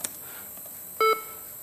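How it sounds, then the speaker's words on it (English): A single short electronic computer beep, clear and steady, sounding once over quiet room background. "beep."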